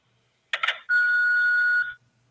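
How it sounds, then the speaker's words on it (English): A short blip followed by a sustained electronic tone of about one second from a phone answering machine at the end of a call, clear and alone, with no voices. "They did a little old answer machine beep, and then they hung up yes, on me."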